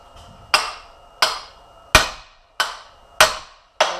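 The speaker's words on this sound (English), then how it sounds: "let's tap on this and see if it comes out" Six sharp metallic hammer taps, roughly evenly spaced, ring out close and loud as a shaft is driven out of a stump grinder cutter head, each strike decaying quickly into quiet with no talking.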